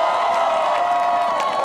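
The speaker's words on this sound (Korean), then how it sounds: "우리 오지영 선수와 우리 어린 친구에게도 박수를 부탁드리겠습니다" A baseball stadium crowd cheers and applauds in a dense, steady roar of clapping and shouts, heard briefly and fairly loud with no break.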